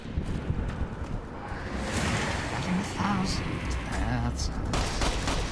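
Gunfire in Fallout: New Vegas, a rattling volley of shots over windy noise, with a voice speaking over the firing.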